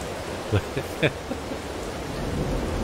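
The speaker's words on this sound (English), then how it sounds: "We're just going to close our eyes and listen to the rain." Steady rain hisses throughout in Farming Simulator 22, with a few soft, brief thumps early on and a low thunder rumble building toward the end.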